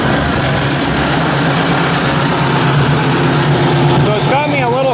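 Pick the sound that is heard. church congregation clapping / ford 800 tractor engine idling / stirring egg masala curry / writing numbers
ford 800 tractor engine idling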